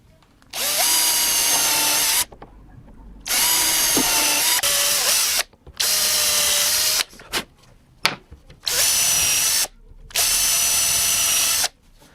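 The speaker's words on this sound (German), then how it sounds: "Dann bohren wir hier noch 2 Löcher vor." A power drill pre-drills two holes in wood while a Bosch POF 1200 AE router is being fitted, running in several loud, steady bursts of whining motor with short silent pauses between them.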